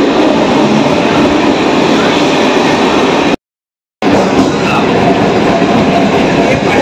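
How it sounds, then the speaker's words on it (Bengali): A Kolkata local train pulls into Khidirpur station with a loud, continuous rolling rumble and rattle of carriages, broken by a brief cut to silence before the heavy roar resumes. "আমাদের ট্রেন চলে এসছে।"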